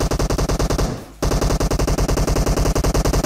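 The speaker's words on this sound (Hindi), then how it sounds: "इस वाली बिल्डिंग से बहुत देर से फायरिंग की साउंड आ रही थी" Sustained rapid automatic gunfire in a battle royale video game, loud and continuous with a brief drop near one second before the steady bursts resume, coming from a building in the match.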